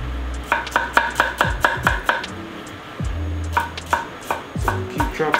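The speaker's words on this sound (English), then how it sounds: "So keep chopping up." A knife chops rapidly on a cutting board, crisp rhythmic knocks in quick bursts, with brief pauses between runs, while roughly chopping ingredients for a chipotle chicken sandwich.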